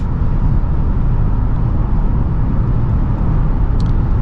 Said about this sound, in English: I want to talk about the wind noise, because there is a good amount of wind noise.